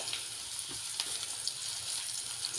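Onions sauté in a pan as the base for lomi noodle soup, making a continuous close hiss and sizzle with faint pops and no speech.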